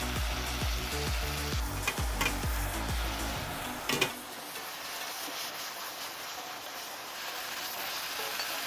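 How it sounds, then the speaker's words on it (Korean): Spinach leaves sizzle and fry in butter in a small pot, a steady crackling hiss with clattering stirring in the first half, then a softer continuous sizzle as they wilt. "시금치 이파리 부분을 넣어가지고 숨이 죽을 때까지 볶아주는데요."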